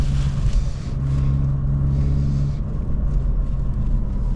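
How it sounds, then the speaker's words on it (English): Car engine heard from inside the cabin, a deep steady rumble with a droning hum that swells and drops as gears change, loud and continuous throughout. "I do have a problem where I overshift because I want to hear the car"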